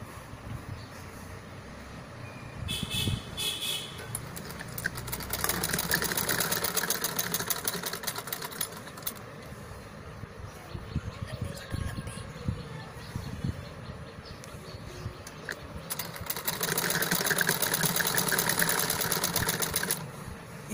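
A sewing machine runs in steady bursts of mechanical stitching, with pauses between runs and a louder stretch near the end, heard up close with no talking.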